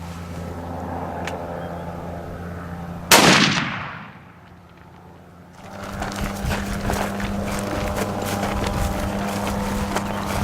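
A single loud rifle shot cracks out on a South African hunt, its blast decaying over about a second into quiet before steady outdoor background noise resumes.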